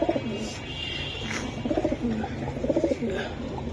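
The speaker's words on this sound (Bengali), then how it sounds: "এটা কি সিলভার নাকি ভাই সিলভার কবুতরটা" A silver racing pigeon coos nearby in repeated soft, throaty phrases, with faint background bird chirps and a low ambient hum.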